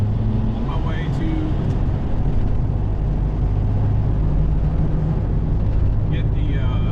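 A 2002 Dodge 2500 pickup with an 8.0L V10 cruising on a highway at about 75 mph, a loud, steady, close engine and road roar with wind and tire rumble filling the cabin throughout.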